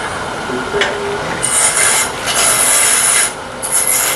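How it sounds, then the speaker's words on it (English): A skew chisel makes a planing cut along wood spinning on a lathe: a close, dry hissing shave that rises in steady passes, with brief lulls between strokes. "This is a planing cut with a Skew."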